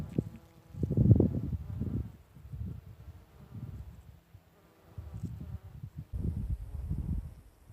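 Bees buzz among lupin flowers in a garden, low droning bursts that rise and fade as they fly close to the microphone, fairly faint, with soft rustling in between and no talk.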